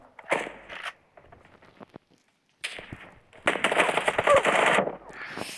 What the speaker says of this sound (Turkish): Biri sniper'lı sıkıyor.